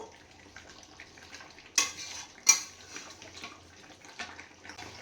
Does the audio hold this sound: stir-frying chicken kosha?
yes